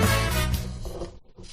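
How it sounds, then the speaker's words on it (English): A short, bright sale-notification chime from the Shopify commerce platform rings out loud and alone, then quickly fades. "that's the sound of a sale on Shopify"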